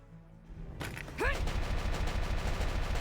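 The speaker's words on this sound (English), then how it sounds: "Machine gun fire." Machine gun fire in the video game Valkyria Chronicles, a dense, loud, rapid rattle of shots that starts up partway in and keeps going steadily over the battle noise.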